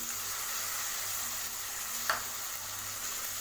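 Tomatoes go into a pan where coriander and mint leaves are sautéing for a mutton vermicelli biryani, giving a soft, steady sizzle with a single brief clink partway through.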